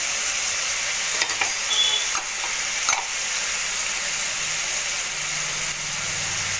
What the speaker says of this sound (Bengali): এই যে আদা রসুন পেঁয়াজের যে পেস্ট সেটা দিয়ে দিলাম, টমেটো পেস্টটা দিয়ে দিলাম